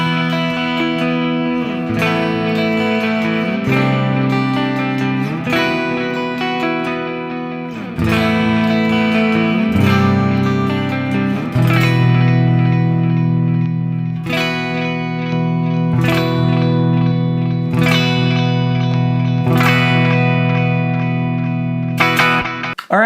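A Strandberg Boden Essential 6 electric guitar played through its neck pickup, with sustained ringing chords and notes with effects and reverb, continuous and loud, struck anew every couple of seconds, with no talking.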